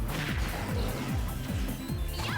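Peach or Daisy's tennis racket forward smash in a Smash Bros game, several sharp whacking hits in quick succession over busy game sound.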